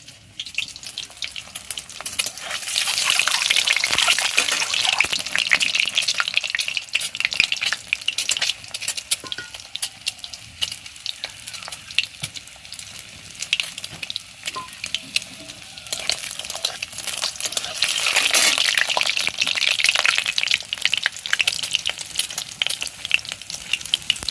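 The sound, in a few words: egg frying in oil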